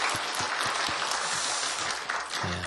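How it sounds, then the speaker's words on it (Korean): A church congregation claps together in encouragement, with rhythmic, near-unison beats at first that merge into a loud, continuous wash of applause. "다시 한번 우리 박수로 격려하겠습니다"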